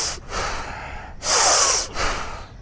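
A person draws a long, deep breath in through the nose, a loud close-up rushing inhale set between shorter breathy sounds before and after.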